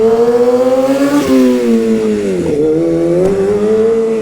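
A motorcycle engine revs hard during a dropback wheelie, its loud, close, sustained drone rising and dipping in pitch with throttle changes.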